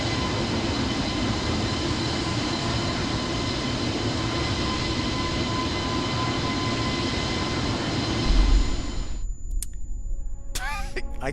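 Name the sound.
F-22 jet taking off in video game Microsoft Flight Simulator 2020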